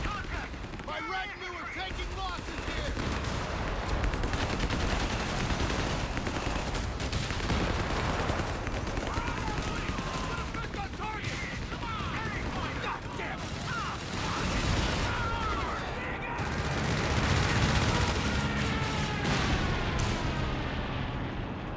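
Machine gun and artillery fire roar continuously in a Company of Heroes 3 battle between Wehrmacht and US forces, dense rattling bursts and booms under a talking commentator throughout.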